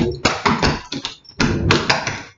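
Clog dance shoes tapping on a hard floor in a rhythmic run of sharp, loud taps grouped in quick doubles and singles, close up with no voices.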